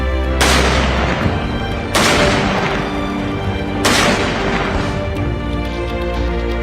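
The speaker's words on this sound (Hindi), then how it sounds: "17 तोपों की सलामी।" Three heavy booming artillery gun salute blasts, part of a 17-gun military funeral salute, fire at a steady interval of about two seconds, each ringing out with a long rolling echo.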